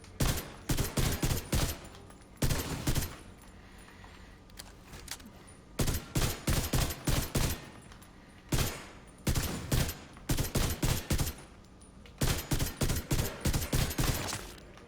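Full-auto gunfire from a rifle in The Division 2 comes in loud, rapid bursts of several shots each, repeated about six times with short pauses between them.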